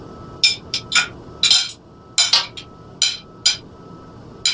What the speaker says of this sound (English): only the clinking of the plates can be heard above the constant tick-tock